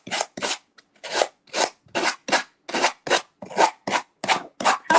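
Rhythmic rasping strokes of a sander rubbing against a paper edge, about a dozen short scrapes in a steady back-and-forth pattern, close and clear.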